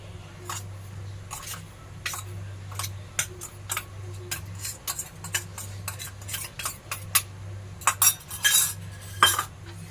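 Powdered sugar stirred into palm-fruit cake batter, a utensil clinking irregularly against a bowl, the strokes quickening toward the end, close and crisp over a low steady hum, with no talk.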